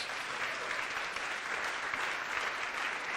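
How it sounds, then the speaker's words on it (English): Audience applause for an entrepreneur at a technology park event in Ljubljana, a steady dense wash of clapping from a full room, sustained evenly throughout without a break. "So another applause for Dora."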